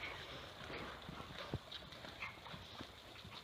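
Horse cantering through a dressage lesson, its rhythmic hoofbeats on an arena surface sounding as soft, repeated thuds at moderate distance, with no talk over them.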